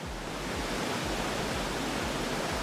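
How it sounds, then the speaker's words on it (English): Loud, steady rushing water roars continuously, like a big stream or waterfall close by, with no voices. "I said I heard either a waterfall or a really big stream."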